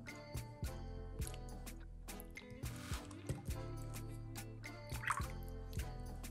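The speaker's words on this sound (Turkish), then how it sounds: "3 yemek kaşığı gül suyunu ayva çekirdeklerinin üzerine koydum" Rose water drips and dribbles from a spoon onto quince seeds in a small container, faint close liquid drops and splashes in an irregular patter.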